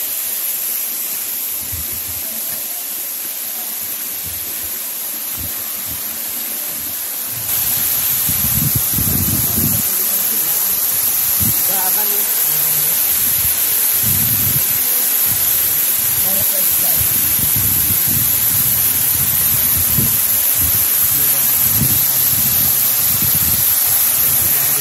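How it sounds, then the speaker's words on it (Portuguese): A waterfall in Japan pours with a constant broadband hiss that grows louder and fuller partway through as if approached, with low thumps and brief rustles under the rushing water. "eu estou debaixo da terceira cachoeira"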